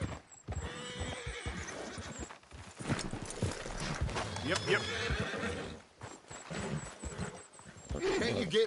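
A horse in Red Dead Redemption 2 whinnies and clip-clops on hooves, mixed with game voices and background noise, the neighing rising clearly at moments while someone speaks briefly.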